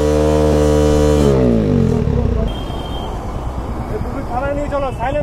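A motorcycle fitted with a modified silencer is started on a street. It idles with a droning engine note that drops away, then revs up again in short rising bursts while people talk nearby.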